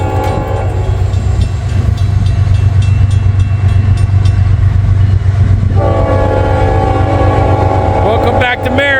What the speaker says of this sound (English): Here we go, first train.